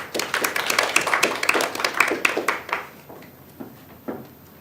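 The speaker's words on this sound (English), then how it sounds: "let's give one more round of applause" An academic audience claps after a colloquium talk, a brisk burst of many hands that fades out after about three seconds, leaving a couple of isolated claps.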